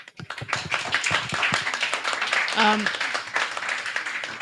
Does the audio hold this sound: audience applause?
yes